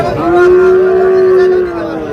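Cattle at the Ambari livestock market, where Sahiwal bull calves are sold, give a single long, loud, close moo lasting over a second, with faint background noise.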